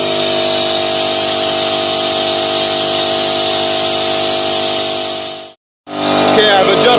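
A weak air compressor runs steadily and loudly, set to about 75 psi while drawing down vacuum on a 2004 Nissan Frontier A/C system, then cuts out abruptly near the end before a brief burst of noise resumes.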